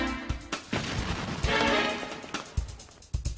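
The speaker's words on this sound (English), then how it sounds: "Then the test of cannon versus wall gets underway." A cannon fires a cannonball at a test wall, a heavy boom followed by rumbling impact and debris, with further sharp hits and crashes trailing off.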